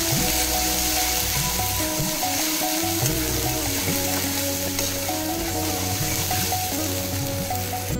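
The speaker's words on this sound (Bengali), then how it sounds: "মশলাগুলো দিয়ে ভালো করে আমি কষিয়ে নেবো।" Ground spices with tomato, ginger paste and chili fry in a pan for a Bengali village-style elephant foot yam and potato curry. A steady close sizzle runs throughout with soft stirring, under a faint tonal background.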